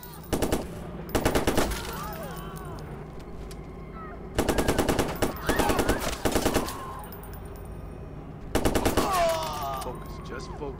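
Watch Dogs video game gunfire in loud, rapid automatic bursts separated by gaps of a few seconds, with game sounds between them and a voice talking beneath.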